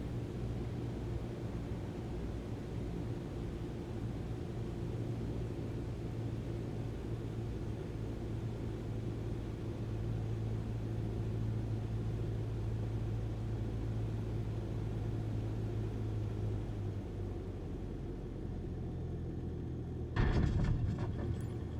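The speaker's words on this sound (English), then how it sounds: "Apply the brakes and stop the plane." Airplane landing in a flight video game, a steady engine roar and rolling rumble that gradually settles lower, ending in a short burst of noise near the end.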